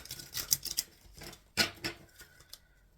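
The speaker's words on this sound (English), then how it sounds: "I am shuffling for the concluding message for our Aquarius Collective." Tarot cards shuffled by hand, quick crisp riffling and flicking bursts in short clusters, close and fairly quiet with brief pauses between.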